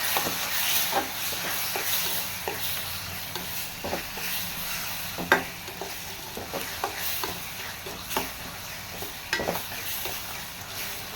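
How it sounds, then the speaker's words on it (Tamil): Prawns sautéing in a pan with turmeric, curry leaves and coriander, a steady soft sizzle under repeated scrapes and clinks of a spoon stirring, close and moderately quiet, with no talk. "கருவேப்பிலையும் கொத்தமல்லியும் சேர்த்து கொஞ்சம் நல்லா வதக்கி விட்டுக்கணும்."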